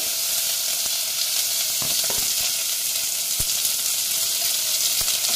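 Onions fry in hot oil with cumin, fenugreek and curry leaves for mentti pappu, a loud continuous sizzling hiss close up, punctuated by occasional sharp pops and stirring clicks.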